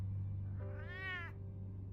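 A single drawn-out cat meow rises and falls over a low steady hum in a Batman video game, clear and close with no talking.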